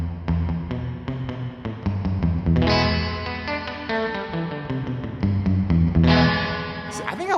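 A plate reverb effect is applied to an electric guitar, giving plucked notes and chords a smooth, lingering wash of decay. The playing is close and continuous, and a fresh strummed chord swells near the end.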